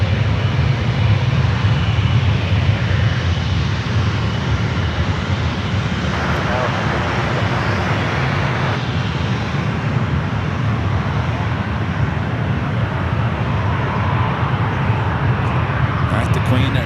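A Boeing 747 jet rolls for takeoff on runway 28 left at San Francisco airport, giving a steady, loud, broadband engine roar with deep rumble that holds for the whole stretch, mixed with faint murmuring voices.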